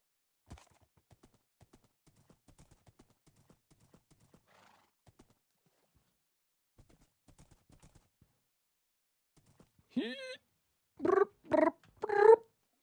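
A horse ridden in a video game, soft light hoof clip-clops tapping intermittently and fairly quietly, followed by several loud whinnies near the end.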